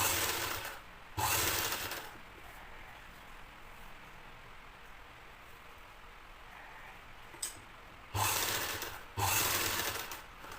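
Sewing machine with a double foot stitching thread piping onto a blouse, running in three loud steady bursts of about a second each, close, with quiet pauses between.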